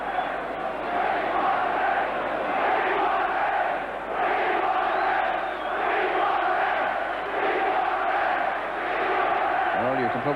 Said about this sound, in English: Probably hear the crowd.